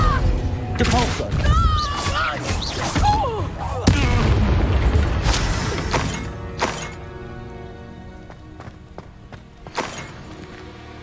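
Depulso force-push spell cast in the video game Hogwarts Legacy, heard as several loud, sharp blasts and crashes spaced across the clip over busy game sounds and music.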